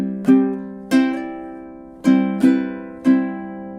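A solo ukulele picks a short fingerstyle melody, a handful of bright plucked notes ringing out one at a time with gaps between them, close and clear.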